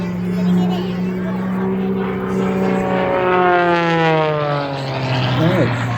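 Propeller aircraft engine in an aerobatic climb at an air show in Bealeton, Virginia, droning steadily with rising and falling pitch sweeps as the throttle changes, loud and continuous throughout.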